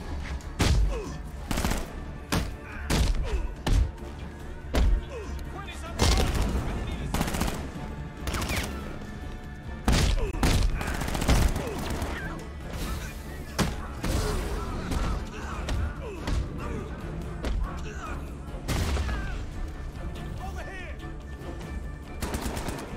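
Rapid bursts of machine-gun and single gunshots in Batman Arkham Knight, loud and close, spread across the whole stretch with heavy thuds and booms between volleys.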